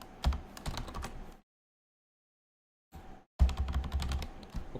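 Bursts of computer keyboard typing while code is written, quick clattering keystrokes for over a second, a pause of near silence, then a short burst and a denser, louder run of key presses, no talking.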